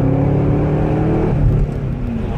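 A Chevrolet Camaro SS 6.2 V8 roars as the car accelerates hard, a deep loud rumble climbing in pitch, then easing slightly toward the end.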